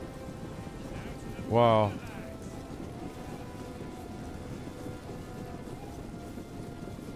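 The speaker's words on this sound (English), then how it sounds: "It's raining where they're at. They're getting rained on." Steady rain hisses in the battle game Rome Total War 2, a continuous even wash under a single short exclaimed word from a player.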